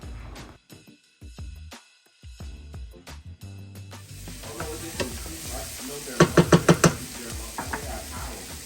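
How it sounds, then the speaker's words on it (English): Vegetables sautéing in a pan for dirty rice, a steady sizzle building after a quieter start, with a quick run of sharp utensil knocks against the pan partway through. "So I'm going to go ahead and start saute my vegetables."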